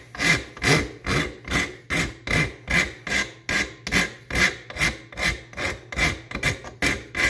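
Coarse-grit sandpaper is worked over knife handle scales in steady back-and-forth strokes, about two per second, with a loud, close, rhythmic scratching rasp and no talking.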